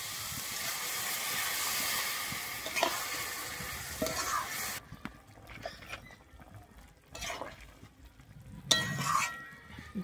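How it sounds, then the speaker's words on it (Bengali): Water is poured into a pan of sizzling fig (dumur) curry. Loud frying hiss fills the first half, then drops abruptly to a softer simmer with scattered stirring scrapes and bubbling. "এরপরে আমি দিয়ে দিচ্ছি অল্প পরিমাণে জল"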